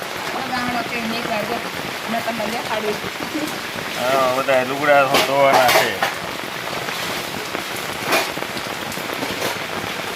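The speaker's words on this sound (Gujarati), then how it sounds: "વરસાદ ચાલુ છે" Steady rain patters on surfaces throughout while someone talks briefly in the middle, with faint clinks of dishes nearby.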